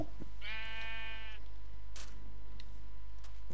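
A sheep in the video game Minecraft lets out one clear, wavering bleat lasting about a second, followed by a few faint clicks over a constant low hum.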